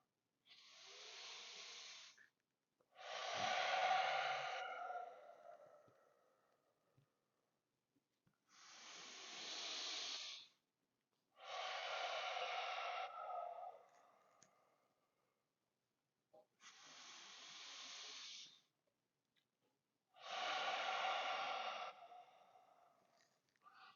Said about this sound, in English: Sort of a restrained breathing on the back of your throat.